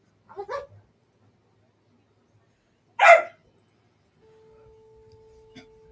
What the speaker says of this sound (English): And now I got puppies playing behind me.